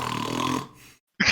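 A voice mimics a character's snoring during a tabletop role-playing session: a drawn-out, buzzing, voiced snore, then a trailing breath and a brief pause before another rough burst starts.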